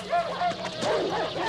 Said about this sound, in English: What the hell is happening to the dog?